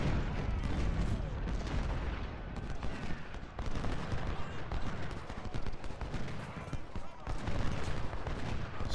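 Musket volleys crackle in the Civil War strategy game Ultimate General: Civil War at the Battle of Gettysburg, a dense, continuous rolling fusillade of distant gunfire with booms mixed in.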